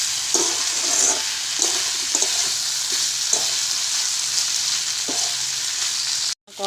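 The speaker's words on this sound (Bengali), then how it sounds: "এবার আমি মাছের মাথা দেওয়ার পর আরেকটু কষিয়ে নেব।" Fried fish heads in curry stir-fry in a pan, a continuous close hiss with regular scraping taps from the spatula, ending in a brief sudden cutoff.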